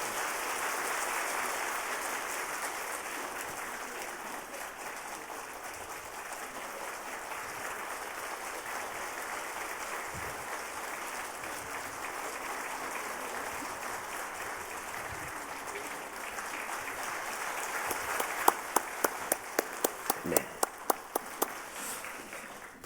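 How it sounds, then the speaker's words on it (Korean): A church congregation at a Sunday worship service applauds in a broad, steady wash that carries on for many seconds, with sharper individual claps standing out near the end. "뜨거운 박수로 축하해 주시기 바랍니다."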